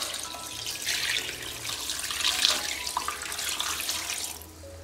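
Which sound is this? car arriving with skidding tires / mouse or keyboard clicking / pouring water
pouring water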